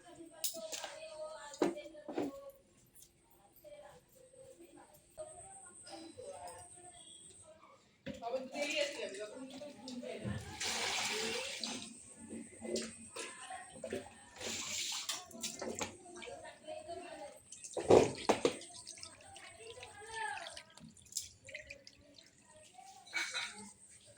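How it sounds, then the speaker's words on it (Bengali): Fresh chicken washed under running tap water in a home kitchen, a splashing, gushing stream that surges and pauses with bursts of heavier flow, while a person talks over it. "তো এই হলো চিকেন, তো চিকেনটাকে আমি ধুয়ে নিয়ে আসি।"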